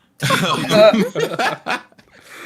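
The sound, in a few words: cough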